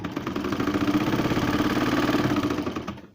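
A sewing machine stitching the cloth of a homemade face mask, running in a fast, even mechanical chatter close by for about three seconds before stopping.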